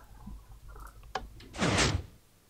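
A soundproof sliding door in the Minecraft Alien: Isolation game opens with a mechanical clack followed by a loud, rushing pneumatic whoosh that fades out over a low background hum.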